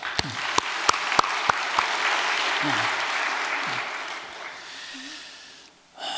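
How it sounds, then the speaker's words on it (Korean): Audience applause at a Korean religious gathering: clapping swells, holds steady as a dense crowd wash for several seconds, then fades. A few separate sharp claps stand out near the start, with occasional breathy vocal noises. "오늘 여기 앉아 계신 우리 여성연합 회원들께도 수고의 박수를 보내십시다"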